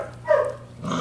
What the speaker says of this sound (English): Warning growls, but nothing.